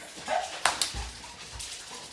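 Excited dogs about to go out give several short, sharp barks and yips with some whimpering, close and loud, in a home.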